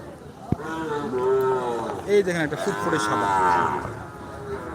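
Calves at a morning cattle market in Dinajpur, with several drawn-out moos rising and falling close by while someone talks over them and market chatter fills the background.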